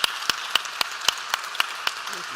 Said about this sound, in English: Let us please give our speakers a very warm round of applause